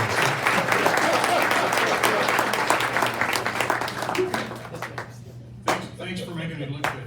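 A meeting audience claps in sustained applause that fades out after about five seconds, followed by a few scattered claps and a voice.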